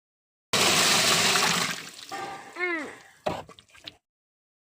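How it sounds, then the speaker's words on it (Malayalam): Water pours onto a cocopeat block being soaked to make growing medium: a loud, close rushing splash that fades out in gurgles, followed by a few brief knocks. "ഇതിലേക്ക് നമുക്ക് ആവശ്യത്തിന് വെള്ളം ഒഴിച്ചു കൊടുക്കാം."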